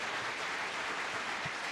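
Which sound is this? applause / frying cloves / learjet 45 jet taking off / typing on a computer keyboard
applause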